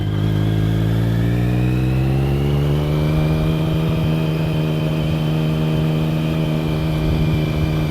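A Triumph Speed Triple motorcycle rides off with a loud, steady engine drone whose pitch climbs gently as it pulls away, heard alone and close.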